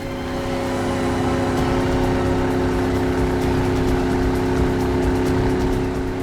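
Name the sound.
motorboat engine running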